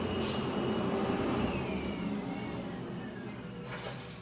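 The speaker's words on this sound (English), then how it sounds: "That's the 3rd time the garbage truck has been here for 2 garbage cans today." A garbage truck rumbles outside a house with a heavy low engine drone, steady and moderately loud, with a hiss of air near the end.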